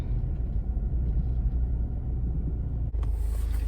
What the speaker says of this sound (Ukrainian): Там якась вантажівка, мені знову схожа на військову, розвертається якось там